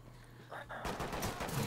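Shotgun fire in a video game, a dense burst of loud overlapping blasts that starts abruptly and continues to the end, with a voice briefly heard beforehand.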